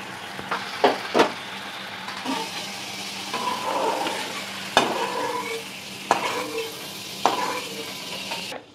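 Paneer pieces dropped one by one into hot butter in a pan, with sharp crackles and pops, steady sizzling in between, and a few stirring clatters.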